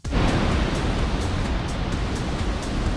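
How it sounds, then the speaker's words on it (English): Glen Ellis Falls in Gorham, New Hampshire roars in spring, a dense, steady broadband rush of falling water that fills the whole clip without pause or voices. "you'll see the top of the waterfall, and it's roaring pretty good, and you can obviously hear it right now too"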